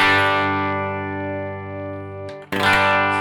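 Electric guitar with an effects unit and some distortion, holding a sustained chord that rings and slowly brightens as the amp's presence control is rolled up, then a fresh strum near the end, loud and alone.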